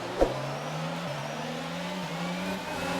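F1 race cars in F1 22 pulling away from a Grand Prix start, a close engine whine climbing steadily in pitch through quick upshifts, with a brief sharp knock at the outset.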